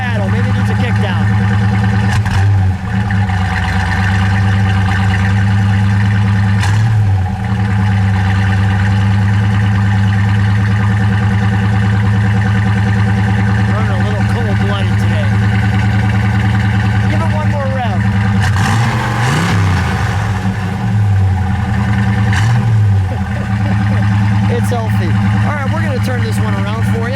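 A 1966 Mercury Comet Cyclone convertible's 390 V8 runs at a slightly high idle, a loud steady low rumble close by, with a couple of brief engine swells and a person talking over it.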